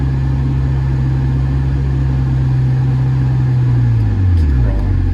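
A manual Ferrari idles with a loud, steady low engine hum, then the pitch dips and shifts as the clutch is eased up and the car begins pulling away, with a voice talking over it.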